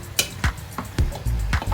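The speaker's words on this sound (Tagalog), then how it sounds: "Make it well, mix." Chicken tinola gets stirred in a pan, with a ladle or spoon scraping and knocking against the metal in irregular strokes of about six hits. Close and fairly loud over a low simmer, with no talking.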